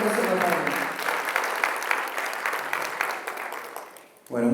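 Applause from a conference audience, a close, fairly loud patter of clapping that gradually fades before a voice begins speaking at the end.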